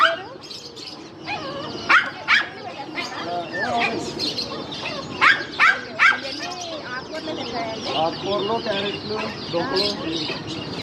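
Puppies and assorted dogs at a pet shop yelp and bark in short bursts amid chirping birds and clucking fowl, with people talking nearby over the busy animal noise.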